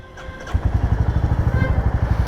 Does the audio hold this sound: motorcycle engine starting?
yes